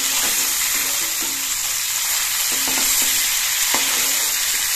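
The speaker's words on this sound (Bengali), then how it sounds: "মাছগুলো 1 মিনিটের মতো ভেজে নিয়ে আমি উল্টে দিচ্ছি।" Hilsa fish frying in oil in a pan, with a continuous close sizzle broken by light taps and scrapes, no voices.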